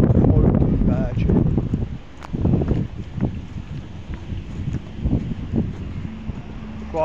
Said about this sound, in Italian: si è alzato un po' di vento, ma un vento caldo